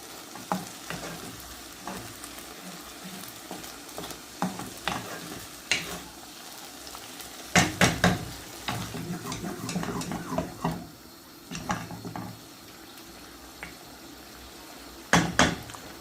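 Desiccated coconut rice bubbles and sizzles in a pan, a continuous crackling broken by several sharp clacks and scrapes of a utensil against the pan.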